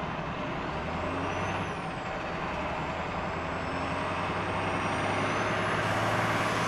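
Trucks backed up in traffic at a port protest: a steady, loud idling-engine rumble with a continuous low drone, high whines and tones drifting across the top, and no speech.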